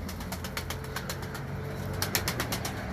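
A lone pigeon, flown by itself rather than with its usual flock, gives quick bursts of flapping wingbeats over a constant low background hum, with louder clustered flaps near the end.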